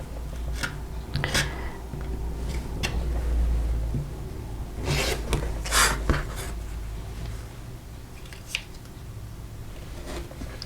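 Scissors trim the dog ears off a quilt block, giving a few sharp, close snips and rustles of fabric scraps against a quiet room background, with no one speaking.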